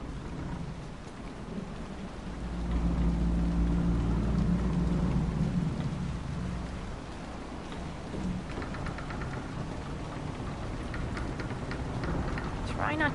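Stormy weather in Dragon Age: Inquisition, with steady rain hissing throughout and a deep rolling rumble of thunder swelling in the middle before easing back to the downpour, while voices speak over the ambience.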